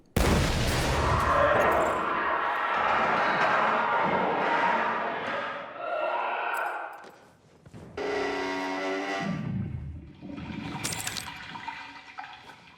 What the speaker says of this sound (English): the monster should make a really loud wailing noise, a little bit like he's got annoyed that you've been throwing grenades at him